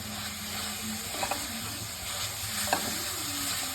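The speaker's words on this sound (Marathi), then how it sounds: "आणि इलायची पावडर हे छान मिक्स करून घेऊयात" Coconut mixture with cardamom powder stirred in a pan, a soft steady sizzle with a few scraping strokes of the spoon, close and fairly quiet, no voices.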